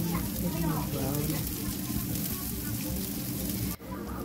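Garlic and onion sizzling and browning in a hot pan, a steady dense frying hiss close by that cuts off briefly near the end, with a voice talking over it.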